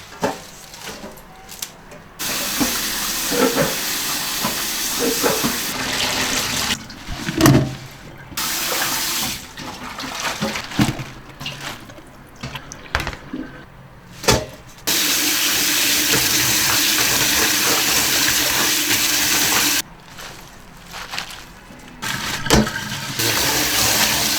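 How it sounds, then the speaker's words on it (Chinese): A plate being washed with dish soap under a running kitchen tap, with loud gushing water in bursts, starting and stopping, mixed with clinks and scrubbing sounds, no talk. "所以现在用洗洁精把那个盘子洗哈"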